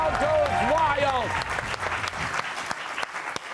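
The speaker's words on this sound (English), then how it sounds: "And the crowd goes wild." A studio audience applauds loudly in a television talk-show studio; dense clapping at full strength fades over the few seconds as a voice begins talking over it.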